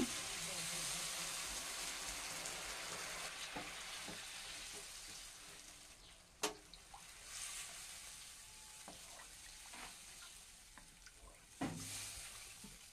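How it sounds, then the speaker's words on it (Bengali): Fried potatoes stirred in a pan with a steady hiss of frying oil, a few sharp clanks of the spatula against the metal, close by with a faint voice underneath. "আলুগুলো দিয়ে একটু নাড়াচাড়া করে নিয়ে এর মধ্যে পরিমাণ মতো জল দিয়ে দেব"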